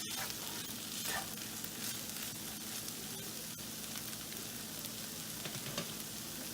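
Steady sizzling and frying from a pan as soy sauce and chilli sauce are stirred together for a vegetable cheese pasta, with soft scraping of stirring, close and continuous.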